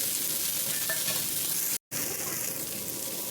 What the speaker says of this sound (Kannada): ಮಸಾಲೆನ ಚೆನ್ನಾಗಿ ಫ್ರೈ ಮಾಡ್ಕೋಬೇಕು